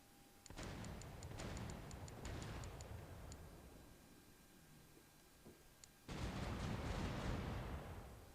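Booming cannon shots in The Pirate: Caribbean Hunt fire in rapid bursts with crackling impacts, then a lull of quieter rumble before another heavy volley erupts.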